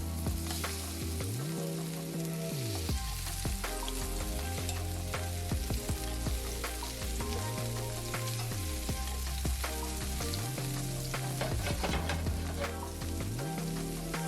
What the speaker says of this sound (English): now I'm going in with my shrimp. As you can see, I'm taking the time to lay the shrimp out so I get a crust on each side